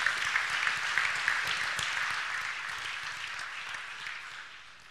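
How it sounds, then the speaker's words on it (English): At the close of a workshop talk on offshore wind energy, listeners give a light round of applause, soft and somewhat distant, tapering gradually over a few seconds. "And you may also receive an applause"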